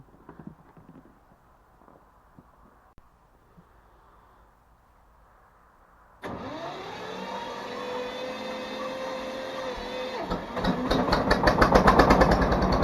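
After a quiet stretch of small clicks, an SF-200 mini tractor engine cold-starts after two months unused and settles into a loud, steady running drone that grows rougher and louder toward the end.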